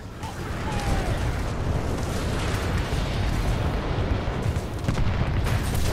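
Weapons fire and explosions rage together in a Titanfall 2 battle, forming a dense, continuous roar of rumbling blasts and rapid shots that stays loud and steady throughout.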